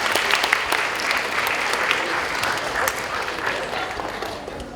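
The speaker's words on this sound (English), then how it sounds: "Can we give her another big round of applause?" Sustained audience applause at the close of a career-planning talk, steady dense clapping from a crowd throughout, moderately loud and close, with no talk over it.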